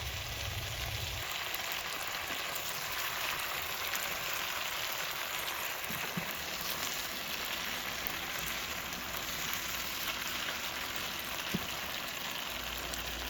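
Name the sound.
kimchi pork stir-frying with sesame oil drizzled in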